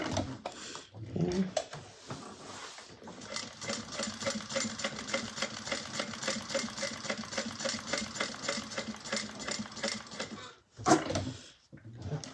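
A sewing machine back stitching a fabric bag runs steadily for about eight seconds in a fast, even rhythmic chatter, close and moderately loud, with a brief spoken word near the start and some handling noise at either end.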